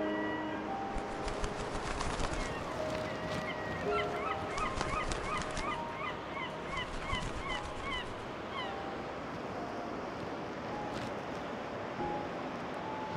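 Several seagulls call repeatedly in short honking cries on a wet, windy Blackpool beach, some near and some farther off, over the constant rush of choppy surf and wind.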